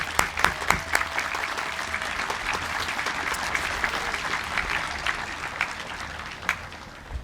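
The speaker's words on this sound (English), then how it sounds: "Let's give them a special round of applause." A graduation audience applauds steadily, a dense wash of many hands clapping at middle distance for several seconds, gradually thinning near the end.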